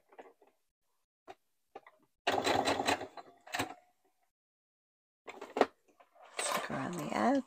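A sewing machine stitching stretch knit fabric for a scarf, heard in short close bursts of fast mechanical whirring separated by quiet pauses and small clicks, with brief talking near the end.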